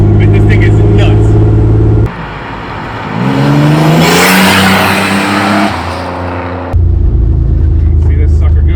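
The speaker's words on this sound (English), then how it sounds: "now sit there and do a burnout" AWD turbocharged S10 pickup doing a burnout, its engine roaring at high revs with a rising pitch and tire squeal, loud and close, with idling rumble before and after and people talking and exclaiming over it.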